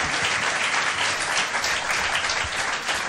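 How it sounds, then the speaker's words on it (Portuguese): An audience at a live fado show claps together, dense sustained applause at full strength throughout the short stretch. "Uma salva de palmas."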